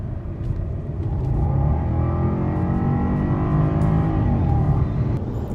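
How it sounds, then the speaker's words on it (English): A non-supercharged Jaguar XJ engine in dynamic sport mode pulls hard under acceleration, a steady loud rumbling drone rising in pitch as the revs climb, heard from inside the car without speech. "I'm gonna actually put in dynamic mode and sport mode and see how she rips."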